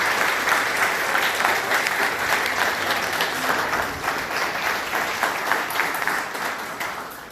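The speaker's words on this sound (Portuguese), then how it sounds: "uma salva de palmas para eles" A roomful of people at a couples' seminar applaud warmly and steadily, a thick continuous patter of many hands that eases slightly toward the end.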